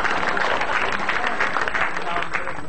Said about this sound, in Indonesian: Dan kalian tepuk tangan.